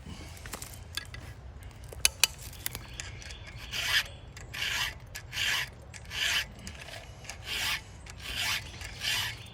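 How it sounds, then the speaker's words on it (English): Hand file sharpens chainsaw rake teeth in a series of about seven rhythmic rasping strokes, close and crisp, preceded by a few small metallic clicks. "I like to turn my file as I cut"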